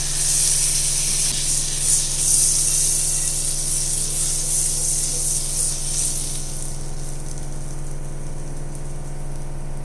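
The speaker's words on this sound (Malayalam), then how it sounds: "അതിലേക്ക് നമുക്ക് കുറച്ച് ബട്ടർ ഇട്ട് കൊടുക്കാം ബട്ടർ ഒന്ന് മെൽറ്റ് ആവട്ടെ" Butter melting in a hot pan while an egg bread snack is being made, a steady close sizzle and hiss over a low hum, fading quieter toward the end.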